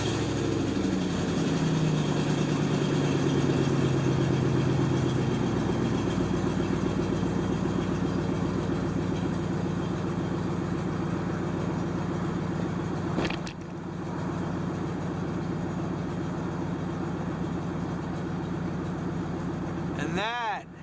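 A truck fitted with Grand Rock 4-inch dual exhaust stacks idles after a cold start, a steady low diesel rumble holding evenly close by, with a brief dip partway through and a voice briefly audible.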